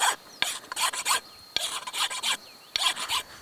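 Hand file rasping wood in three bursts of quick back-and-forth strokes, close and crisp, separated by brief pauses, with no talking.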